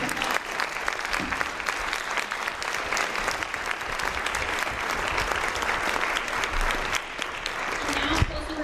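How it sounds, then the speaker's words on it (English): An audience at a county Republican debate applauds the candidates in a dense, steady wash of clapping that holds for several seconds before easing slightly near the end. "Please give the candidates a round of applause."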